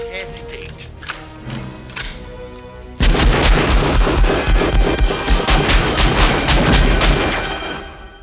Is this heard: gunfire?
yes